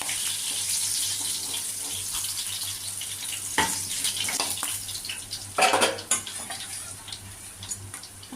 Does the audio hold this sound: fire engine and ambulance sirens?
no